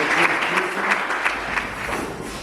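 An audience at a school talent competition final claps in a steady, moderately loud burst, the individual claps blurring into continuous applause throughout.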